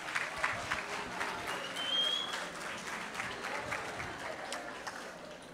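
Sustained applause from an audience greeting a school group at a youth performance event in Tandil, Argentina, dense steady clapping with a swell around the middle, no talk over it.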